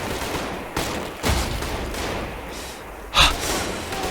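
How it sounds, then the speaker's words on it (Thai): Gunfire in the shooter game Trepang2: a few sharp, punchy shots spaced apart over a dull background rumble, fairly close and loud. "ยิงแบบ โมซัมบิกหนึ่งสองเม็ดตัวหนึ่งเม็ดหัว"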